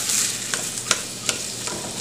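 Vegetables frying for Indian-style Chinese fried rice, a close steady sizzle broken by several sharp scrapes of a spatula stirring the pan, with no voices.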